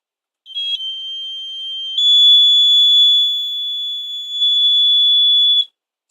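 An RFID tag simulated with an LC oscillation circuit in a physics demonstration sets off a siren, a loud steady high-pitched electronic tone that holds for about five seconds and steps in loudness partway through.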